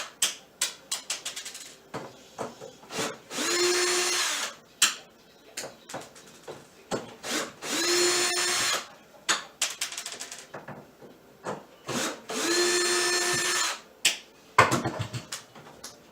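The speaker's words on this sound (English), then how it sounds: "Make sure your drill's going the right way." A power drill whirs in three separate bursts of a few seconds each while removing kitchen cabinet door screws, with clicks and clattering handling noises between them, close by.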